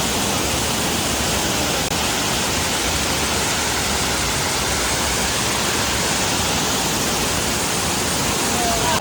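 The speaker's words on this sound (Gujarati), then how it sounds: "કેટલું મસ્ત પાણી આવે છે" Water rushes loudly along a hill road during heavy rain on the way to a temple, a steady broadband roar that fills the whole stretch with no break.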